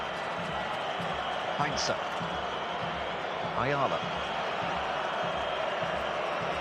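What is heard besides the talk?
spectator whistling in the stadium crowd at a football match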